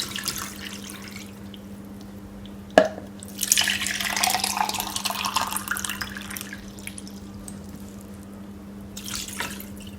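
Water pours into a pot for Jamaican red peas beef soup, a splashing, rushing stream lasting several seconds after a sharp clunk, close by and alone over a low hum.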